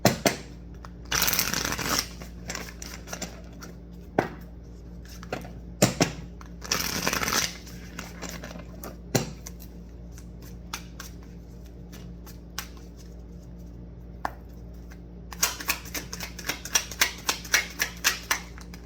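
Tarot cards are shuffled and drawn close by: short bursts of riffling alternate with scattered soft taps and slaps as cards are handled and laid down, ending in a busy run of shuffling.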